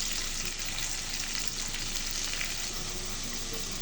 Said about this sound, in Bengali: মাছটা উল্টে দিয়েছি